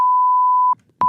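A loud, pure electronic censor bleep covers swearing, holding steady for most of a second, breaking briefly with a faint trace of voice, then sounding again.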